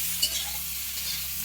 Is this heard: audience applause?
no